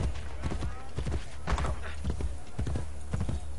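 A horse clip-clops at a gallop through the Spanish-language video game Assassin's Creed Brotherhood, hoofbeats pounding steadily and loud with a whinny, while a person talks over it.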